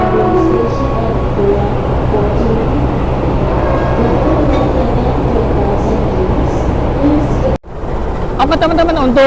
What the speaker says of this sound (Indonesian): Yuk kita langsung aja review lokomotif dinas kereta api Parahyangan teman-teman, menggunakan CC 206.